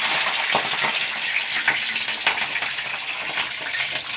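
Green chillies sizzle and spit in hot oil in a kadai, a steady close frying hiss with scattered sharp crackles throughout.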